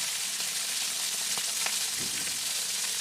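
Fish frying in plenty of hot oil in a pan, a steady dense hiss and crackle with a few sharper pops and a soft scrape near the end, close by and with no talking.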